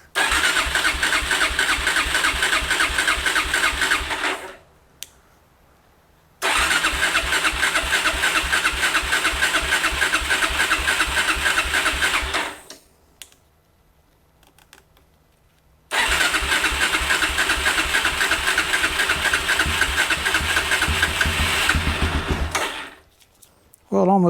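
A 2007 Suzuki ATV, choke on after five years sitting idle, cranks and nearly starts in three long loud bursts of churning engine noise separated by short silences, ending with a brief fourth burst.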